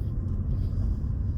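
A car drives along the wrong side of a street, a steady close engine and road rumble with no clear pass-by peak.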